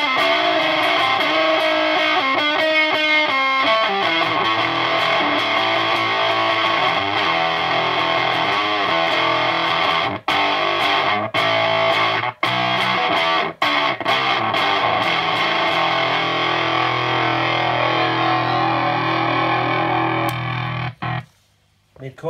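An electric guitar plays through a budget fuzz pedal with gain and tone turned up, giving loud, thick, distorted chords and riffs for about twenty seconds, broken by brief choppy stops near the end.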